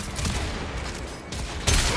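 Gunfire in the video game Warframe, a steady dense volley of rapid shots amid heavy game noise, ending in a sharper loud burst.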